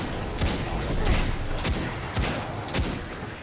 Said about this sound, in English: Let's use my fancy revolver.